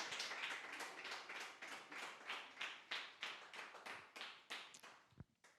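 A church congregation claps along in a steady rhythm at a Spanish-language service, the sharp claps coming roughly three or four per second, close and fairly loud, then stopping abruptly near the end.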